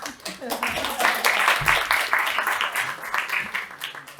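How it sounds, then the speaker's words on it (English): An audience applauds the weekend organisers at a talk on resisting racism in education, steady clapping from a room that fills the whole stretch, mixed with some voices. "we can give them a round of applause."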